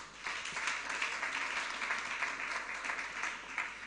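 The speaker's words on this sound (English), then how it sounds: "Please give yourself a round of applause." Summit attendees clap for themselves in a sustained round of applause, an even, dense patter of many hands at moderate volume that continues unbroken from start to finish.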